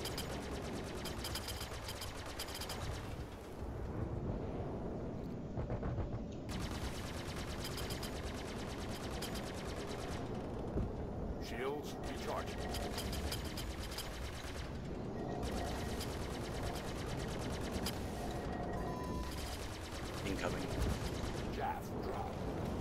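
Star Citizen ship weapons fire striking shields in a dense, continuous barrage of rapid, machine-gun-like impacts and crackling bursts, loud and sustained, layered over ship rumble with occasional cockpit voice announcements.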